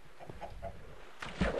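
Chickens in the Minecraft video game give short soft clucks in a loose rhythm, faint and close, with a couple of brief in-game sounds toward the end.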